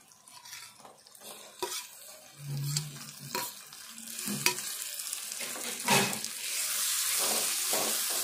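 Tomatoes are added to fried onions for a tomato egg curry and stir-fried in a pan: quiet sizzling broken by scraping spoon strokes and soft thuds, with the frying getting louder and steadier near the end.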